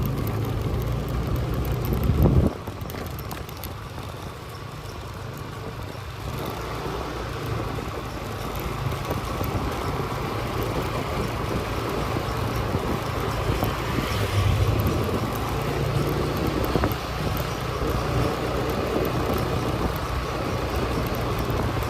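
Continuous road noise from a car driving along busy Cemara Street in Sanur, Bali, a steady rumble of engine, tires and surrounding traffic with wind buffeting on the microphone throughout.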